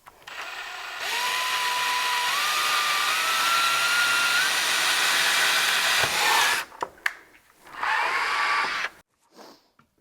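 A power drill whines steadily for several seconds, its pitch rising slightly as it bores into a skateboard nose to fit a skid plate, then stops and briefly restarts in short bursts.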